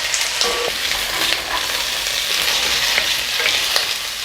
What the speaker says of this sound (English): We're going to saute this for 3 minutes.